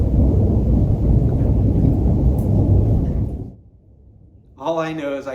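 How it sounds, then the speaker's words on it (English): A dramatic thunder sound effect: a loud, dense rumble that rolls for about three seconds, then fades into near silence before a voice starts talking. "Cue the thunder."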